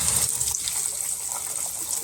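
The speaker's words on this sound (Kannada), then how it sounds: "ಎಣ್ಣೆ ಕಾಯಕ್ಕೆ ಇಟ್ಟಿದ್ದೀನಿ. ಇವಾಗ ನಾನು ಮಾಡಿರೋ ನಿಪ್ಪಟ್ಟು ಹಾಕ್ತಾಯಿದ್ದೀನಿ." Avalakki nippattu frying in hot oil makes a steady, hissing bubbling sizzle that runs continuously, moderately loud, with no voices.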